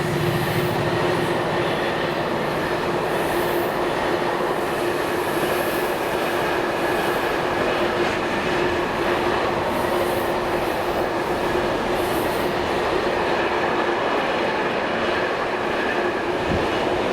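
A freight train hauled by locomotive 68007 on the Moss End to Daventry run rolls past on the Ayrshire coast line, a continuous loud rumble of wagons and wheels with faint rail squeal, steady throughout.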